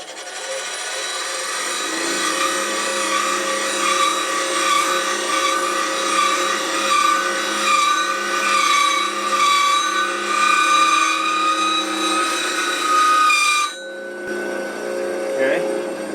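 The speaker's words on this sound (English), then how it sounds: "now I can take it over to the bench grinder" A bench grinder grinds the flat face of a chuck recess woodturning tool, a loud, steady high whine with a gritty rasp that holds for about thirteen seconds, then drops away to the motor spinning down.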